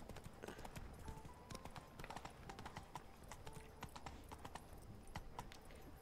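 In the video game Witcher 3, the horse Roach's hooves clip-clop in a steady, brisk rhythm throughout, close and continuous over faint background sound.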